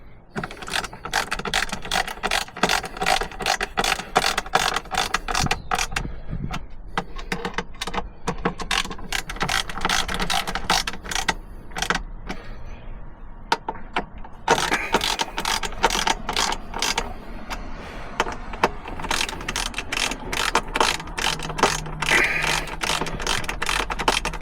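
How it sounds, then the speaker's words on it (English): A hand ratchet tightens bracket bolts on a Starlink MOLLE mount, giving close, rapid bursts of metallic clicking that repeat in quick strokes, with short pauses between runs of turning. "So I'm tightening those up now."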